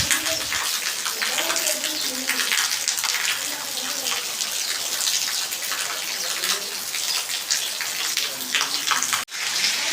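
Heavy monsoon rain pours steadily, a dense bright hiss of water falling on surfaces throughout, with a faint voice murmuring underneath at moments.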